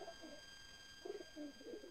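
Pigeons coo softly in a breeding loft, giving a few faint, low, rolling calls in short bursts against a quiet background.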